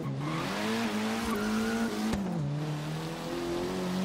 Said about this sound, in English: These stock little motors in here, I want to say like a 1 liter, but man, these things are actually sound really nice.